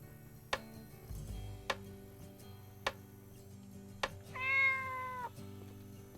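A cartoon cat meows in The Good Life game, one clear rising call with warbling harmonics near the end, over steady background music and periodic ticking clicks.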